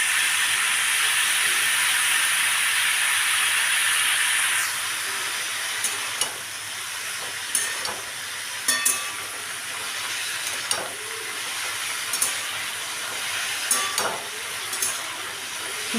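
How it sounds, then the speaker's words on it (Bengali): Snake gourd and potatoes fry with turmeric and salt in a pan, giving a steady close sizzle and hiss that eases after a few seconds, broken by occasional clinks and scrapes of stirring. "দিয়ে এটাকে এবার আমি ভালো করে একটু ভাজা ভাজা করে নিচ্ছি"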